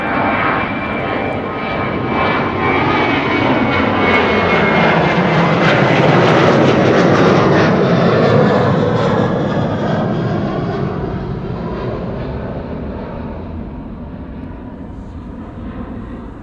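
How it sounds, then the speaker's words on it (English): A KLM passenger jet on departure from Amsterdam Schiphol bound for Porto, its engine roar swelling to a loud peak mid-pass and then slowly fading as it climbs away, with no voices. "This is KLM flight 1575 on its way to Porto in Portugal."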